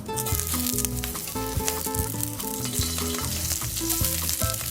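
Vegan lomo saltado ingredients sauté in hot oil in a wok, a continuous loud sizzle with stirring scrapes, heard under steady background music.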